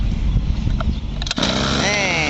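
A used Japanese Ryobi EKK-26 brush cutter, fitted with round trimmer line, is pull-started: a rough rattling pull that catches, and the small two-stroke engine then settles into a loud, close, buzzing idle.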